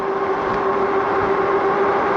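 Eclio F01 moped-style e-bike hub motor under throttle only on flat ground, a steady whine with a sustained tone over continuous road and wind noise, constant level throughout with no voices.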